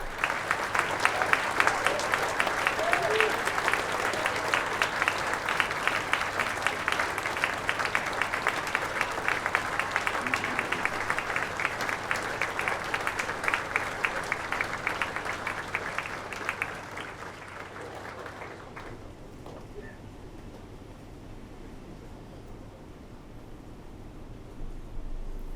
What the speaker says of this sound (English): give them a massive round of applause to show their appreciation